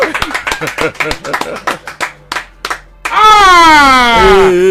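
Sharp hand claps in a brisk uneven run, close, mixed with talking, then the clapping stops and a loud sustained tone takes over.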